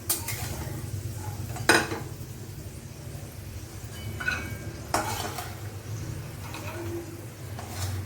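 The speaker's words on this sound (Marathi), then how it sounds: "बघा आपले मनुके कसे आता फुगलेत, फ्राय झालेत" Raisins plumping in ghee in a pan give a faint continuous sizzle under a low hum, with a few clinking utensil scrapes and stirs as they are moved and lifted out.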